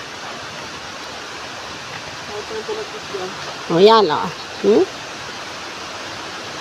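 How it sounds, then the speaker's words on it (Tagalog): Steady broadband rush of a waterfall stream on a steep forest trail on Mt. Makiling, continuous and moderately loud throughout, with a short spoken exchange briefly over it. "Naririnig nyo ba yung lagas-las ng tubig?"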